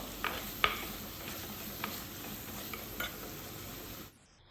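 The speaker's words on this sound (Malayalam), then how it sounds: "ഉപ്പിട്ട് കൊടുത്തിട്ട് നല്ലോണം ഒന്ന് വയറ്റി കൊടുക്കണം നല്ല ഗോൾഡൻ കളറാവുന്ന വരെ വയറ്റി കൊടുക്കണം" Onions frying with salt in a pan for mackerel curry, a faint steady sizzle with a few light scrapes and taps of stirring, close and quiet, ending abruptly in near silence.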